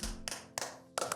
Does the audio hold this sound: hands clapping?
yes